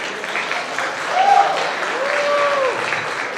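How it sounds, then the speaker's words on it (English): Audience applause at a mental health awareness fundraiser, a steady wash of clapping that swells slightly midway, with faint tonal voices or whoops rising through it. "Let's have a big round of applause for Cal Dosanjh."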